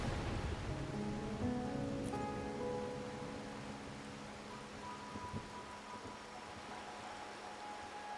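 Rain falling in the Wuthering Waves video game, a soft steady patter with low rumbling beneath and faint tonal music layered over it, no voices.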